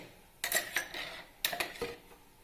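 An unwashed cooking pan, just used for roasting masala, is set down on the stove with two clear metallic clanks about a second apart, each followed by a short rattling scrape.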